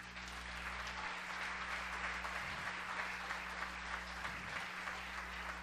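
A church congregation applauds the Lord during a sermon, a sustained, even wash of clapping from many hands heard at a distance, fairly faint over a low steady hum.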